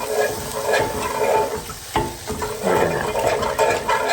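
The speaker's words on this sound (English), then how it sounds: "If you get lumps when you do this, just keep whisking until all the lumps come out." Gravy for hamburger steaks is whisked steadily in a pan to break up lumps, making a continuous close scraping, swishing sound under a light sizzle, with one brief knock partway through.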